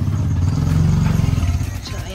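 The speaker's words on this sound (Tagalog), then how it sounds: "May mga dumadaan na motor, may mga aso." A motorcycle passes close by outdoors, its engine a loud, low throbbing that swells and then fades over about two seconds, with speech faintly mixed in.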